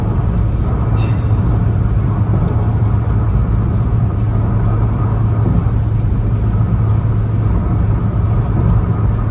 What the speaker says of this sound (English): All that delicious road noise.